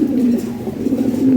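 Large Lahori Sirazi pigeons coo close by in a low, throaty, rolling call that carries without a break. No one is speaking.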